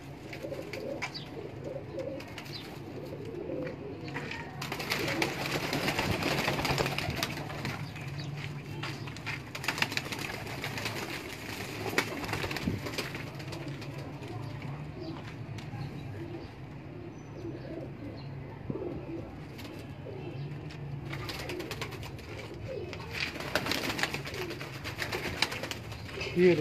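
Rampuri pigeons at a breeder's loft in inner Lahore's Delhi Gate area cooing over steady background noise, with people talking throughout at moderate distance.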